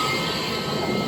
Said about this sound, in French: de façon à ce que ça puisse mettre le pulseur d'air